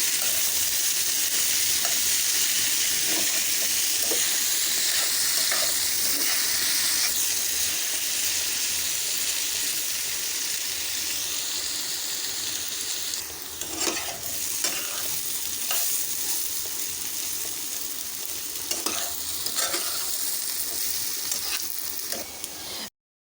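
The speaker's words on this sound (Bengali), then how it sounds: "এখন পেঁপে আলুটা ভালো করে ভাজা হবে" Potatoes and papaya fry in hot oil with salt and turmeric for a rohu fish curry. A constant close sizzle carries scattered spatula scrapes and taps, and stirring picks up toward the end.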